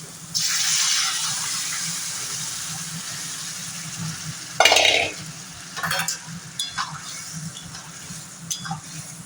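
Dal poured into a pan of sautéed fish head and stirred, a wet rush and sizzle followed by scraping spoon strokes and a few clinks, close and fairly loud, with no talk.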